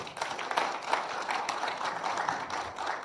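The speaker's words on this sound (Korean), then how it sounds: "수고하신 김진영 교수님께 심찬 박수 보내주시기 바랍니다" An audience at a small-business forum applauds a professor, a brief scattered round of clapping at moderate distance that stays fairly even throughout.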